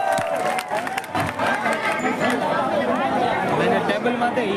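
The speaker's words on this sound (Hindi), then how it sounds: "आदरणीय इमरान प्रतापगढ़ी जी, जोरदार तालियों से उनका स्वागत कीजिए" A crowd at a political rally in Haryana cheers and claps in welcome for a speaker, a dense, steady roar of voices and applause with chatter mixed throughout.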